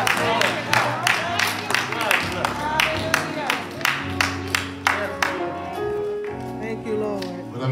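A church congregation claps in a steady rhythmic beat, loud and close, with musical tones and shouted praise over it; the clapping thins out toward the end while voices and music continue.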